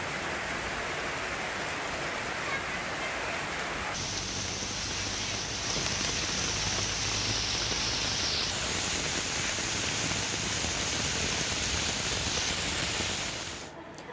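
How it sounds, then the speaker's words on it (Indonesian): Heavy rain pours over Jakarta in the afternoon and evening, a steady, dense hiss that continues unbroken for the whole stretch with no voices. "hujan deras yang melanda sejumlah wilayah di Jakarta sejak sore tadi"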